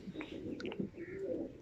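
Nawab pigeons cooing softly at a distance, a few low murmuring coos over faint background noise.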